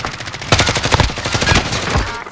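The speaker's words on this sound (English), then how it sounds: "Taking direct fire." Rapid bursts of gunfire in the video game Call of Duty Modern Warfare, likely from an Origin 12 shotgun, loud and close, with sharp repeated shots following one another at a quick, steady pace.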